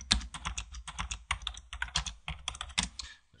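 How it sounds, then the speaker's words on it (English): Rapid clicking keystrokes on a computer keyboard, typed in quick, uneven bursts, close and clear with no talking. "which if we double click in it, we can start typing"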